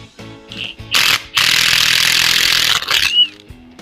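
Impact wrench in a shop during reassembly of a 9-inch rear end: a short loud burst, then a sustained hammering buzz lasting about a second and a half, and a brief final rattle, close and alone.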